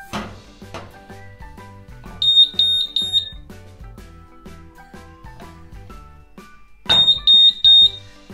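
A Honeywell water leak alarm being tested with water: a shrill electronic alarm chirps in rapid bursts of beeps, twice, over a background of clattering, knocking sounds.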